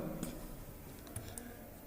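Computer keyboard typing during Python programming, with a few faint, sparse key clicks including a press of the enter key, quiet and close against a low background hum.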